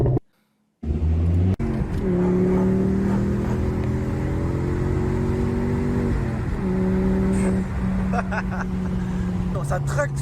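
A two-litre five-cylinder ST car engine revs hard and pulls through the gears from inside the cabin, a steady loud rising drone broken by brief gear-change dips, after a short quiet start.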